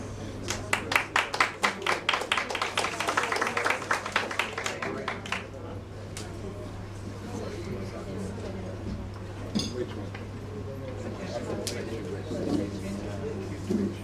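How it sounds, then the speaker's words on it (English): Applause at an installation ceremony, a few seconds of lively, fairly close hand clapping from a small audience that fades out, followed by room murmur and a voice speaking over a steady hum. "Give him another round of applause, please."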